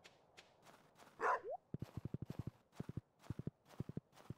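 Horse hooves clip-clop in the Stardew Valley 1.6 farming game: a short whoosh, then a steady run of crisp, evenly spaced hoofbeats, loud and close, with no talk over them.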